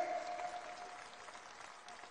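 A crowd at a party workers' welcome ceremony in Raipur applauds Chief Minister Vishnu Deo Sai, steady clapping that starts loud and slowly fades.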